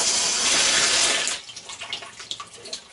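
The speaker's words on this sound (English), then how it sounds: "put a little bit of water on the tub" Water gushes loudly and steadily into a General Electric washing machine tub for over a second, then stops, leaving scattered drips and splashes.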